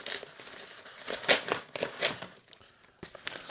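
A knife slits open a plastic Urban Armor Gear shipping envelope, making close, irregular crinkling and tearing rustles in short bursts with brief pauses between them.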